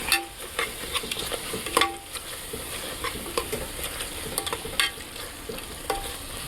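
Chicken masala being stirred in a pan, a steady frying sizzle broken by repeated scraping strokes of a spoon against the pan, close and moderately loud, with no voices.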